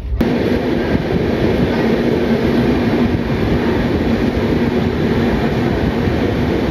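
The 03102 Puri–Sealdah Special train runs fast past Bhadrak in Odisha, heard from inside as a loud, steady rumble and rattle of wheels on track that continues without break.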